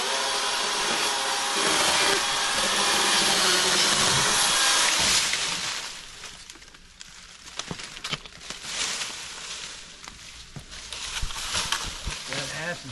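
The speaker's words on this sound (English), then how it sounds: "using the old DeWalt cordless, brushless chainsaw" A DeWalt cordless brushless chainsaw cuts through large ash firewood with a loud, steady buzzing rasp for about five seconds. It then drops to quieter, uneven cutting with sharp cracks and wood knocks.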